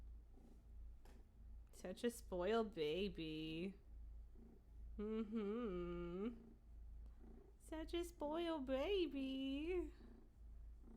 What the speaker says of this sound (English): I'm so glad that you guys can hear him purring.